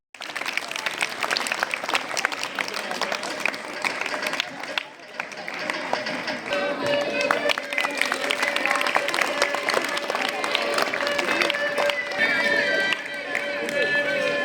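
Students applaud at a school annual prize distribution ceremony, a dense, steady wash of clapping sustained throughout with crowd noise and a faint tonal hum underneath.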